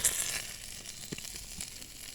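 Field grasshoppers frying in a pan, a steady, fairly faint sizzle with a few crisp pops and crackles, heard alone.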